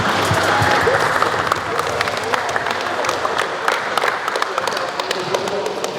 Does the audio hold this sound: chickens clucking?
no